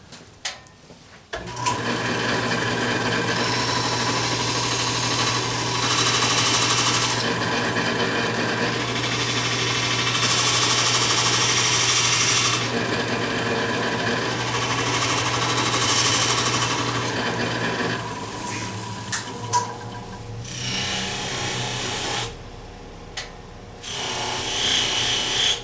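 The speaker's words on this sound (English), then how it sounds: "I'm going to go ahead and sharpen my knife a little bit more" A wood-carving knife is sharpened against a powered sharpener, a loud continuous whirring grind close by for about twenty seconds, then a brief pause and a shorter final run.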